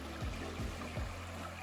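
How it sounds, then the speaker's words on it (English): Small stream flowing beside picnic tables on a Paradise Falls hiking trail in Thousand Oaks, California, a soft continuous trickle and gurgle with a few low splashing pulses, faint and alone. "this is a stream right next to the picnic tables"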